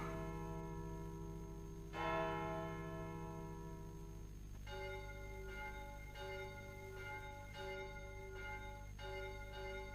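Church bells in a cartoon version of Hunchback of Notre Dame peal in a steady repeating rhythm, one strong stroke followed by a series of evenly spaced rings, loud and resonant, with no speech.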